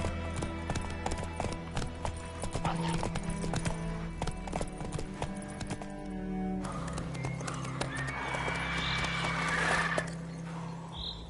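Horse hooves clip-clop steadily for Roach, a horse in a video game, with whinnies and neighs mixed in over a busy, layered game soundscape, and a background voice briefly heard.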